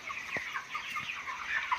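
Chickens in a poultry farm shed holding about 4,100 birds give a steady, soft mass of clucking and chatter, moderately distant and continuous, with a few brief low knocks and no talking.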